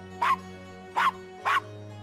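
Castro the dog in the Gabriel Knight 20th Anniversary Edition game gives three short, clear barks at an even pace, loud and close over a low steady background hum.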